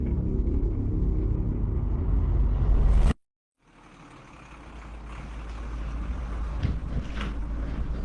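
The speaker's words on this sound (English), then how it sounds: "You hear that? That's Leo's truck rolling up" A low, steady engine rumble with wind buffeting, cut by a brief silence, then a truck's drone building back up and rolling closer.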